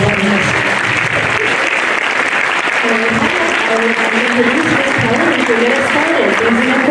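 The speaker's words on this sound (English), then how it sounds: "give a round of applause to all these wonderful students" An audience at a first grade school concert claps in a loud, dense, sustained round of applause, with voices talking and calling over the clapping.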